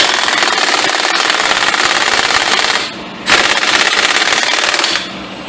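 Power tool hammering on the front hub bearing nut of a 2000-2013 Chevrolet Impala, a loud, continuous rapid rattle that breaks off briefly near the middle and resumes before stopping.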